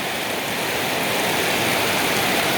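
Dense heavy rainfall drums continuously near green rice paddies, a close, even wash of noise that holds at a constant level with no voices.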